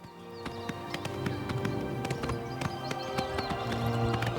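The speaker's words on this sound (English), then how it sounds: "This horse only wants to turn left." Galloping horse hooves in the video game Oblivion Remastered, a steady rapid clip-clop under layered game music and ambience, close and continuous.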